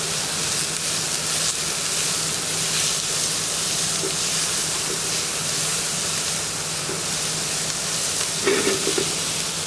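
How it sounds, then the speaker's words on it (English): Vegetables caramelising in a knob of butter over medium heat for stock, giving a steady, close, continuous sizzle and hiss with a faint clink near the end and no talking. "leave them on a medium heat, turn them every couple of minutes so they're nice and caramelised"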